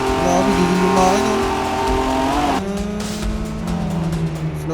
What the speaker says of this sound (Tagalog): Sobrang lakas ng makina guys.